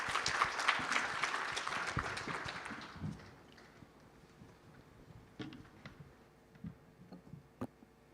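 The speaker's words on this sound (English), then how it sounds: "So please join me for a round of applause for the panelists." An audience at a live-streamed panel event applauds the panelists, a burst of clapping that fades over about three seconds into scattered claps and quiet room noise.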